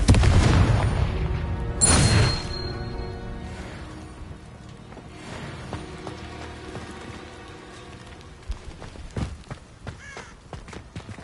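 A Confringo spell blast in Hogwarts Legacy lands as a loud burst with a sharp attack that decays over a couple of seconds. Softer rumbles and scattered crackling impacts follow. No voices are heard.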